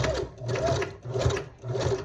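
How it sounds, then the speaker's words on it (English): A sewing machine stitches doubled hair wefts for a wig, its needle chattering in loud rhythmic bursts that run, pause briefly and start again, close up with no talking. "let the track glide through, and the machine is going to do the work"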